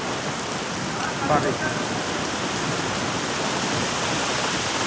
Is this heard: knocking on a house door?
no